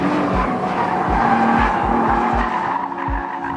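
A 2013 Nissan GT-R slides under power on a track, its tires squealing loudly and continuously over the close, steady roar of the engine, with short throttle pulses recurring through the slide.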